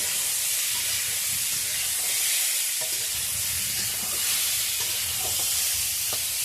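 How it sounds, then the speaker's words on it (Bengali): Small fish sizzle and hiss loudly and continuously in oil in a wok, with faint stirring scrapes under the steady frying noise. "এই যে কুচি মাছটা কড়াইতে দিলাম"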